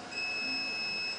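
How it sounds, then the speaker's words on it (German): Alarm from a RAID server after a disk failure: a steady, continuous electronic beep tone held for about a second, moderately quiet over faint room hum. "Ich schalte mal den Alarm aus"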